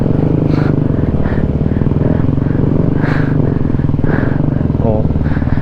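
Motorcycles labor up a steep, muddy mountain trail, the engines droning loud and close with a rough, pulsing rumble and occasional revving surges; no one speaks over it.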